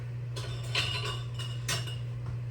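A glass jar being handled for homemade dill pickles from garden cucumbers, a few light clinks and taps against a steady low hum, with no talk.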